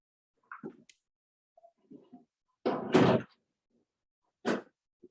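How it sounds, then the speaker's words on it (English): A door slides and then shuts nearby with a firm thud, with a few quiet clicks and rustles around it in an otherwise silent room. "I'm going to close this door."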